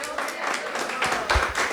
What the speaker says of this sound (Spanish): el aplauso al Señor